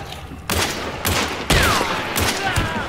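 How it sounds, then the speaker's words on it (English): Gunfire in Hunt: Showdown during a team fight in cypress huts, a few loud sharp shots spaced about half a second apart with echoing tails, heard alone without talk. "Somebody's shooting on me."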